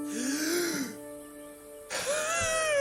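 A raspy throat-clearing cough and strained, wheezy breathing, followed by another harsh rasping cough, close and fairly loud.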